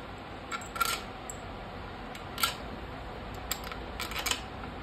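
Bolts being fitted and tightened one by one on the chamber of a TVS Sport motorcycle engine during assembly: a few sharp metallic clicks and ticks of tool on metal, spaced irregularly over a steady background hiss.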